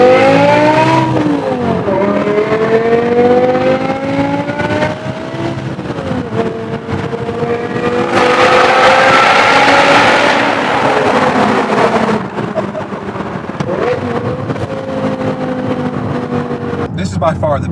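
Manual V10 BMW M5 E60 fitted with an F1 exhaust, driving with pops and crackles on overrun between loud rising and falling engine pulls, close and continuous, with someone talking at times.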